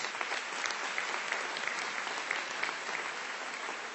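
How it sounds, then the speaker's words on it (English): Audience at a spring commencement ceremony applauding steadily, a dense wash of many hands clapping at moderate volume that holds evenly for the whole stretch. "Please join me in a round of applause."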